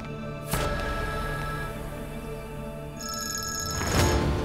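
A telephone rings as a sound effect in a Turkish drama dubbed in Urdu, a bright electronic ringing tone with harmonic overtones repeating over several seconds, close and clear with no speech.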